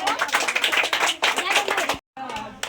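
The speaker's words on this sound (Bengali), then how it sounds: "হাততালি দাও" A group of students at a free summer coaching class claps their hands, a dense, loud burst of applause mixed with voices, pausing briefly before resuming.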